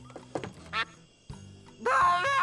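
Cartoon duck quacks in the video game Escape from Monkey Island, a few short nasal quacks close up with game thuds and effects between them, then a burst of louder game sound at the end.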